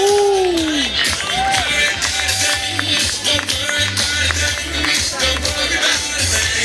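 Applause from the audience at a triathlon and paratriathlon awards ceremony, a steady loud wash of clapping and crowd noise with some cheering, under a voice speaking over a PA.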